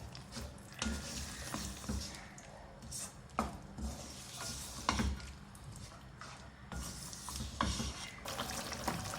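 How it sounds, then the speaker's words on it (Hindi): Mutton with garlic ginger paste fries in a pan for bhuna gosht, a continuous soft sizzle with repeated scraping clinks of a spoon stirring, close and steady with no talk. "भूनेंगे इसको।"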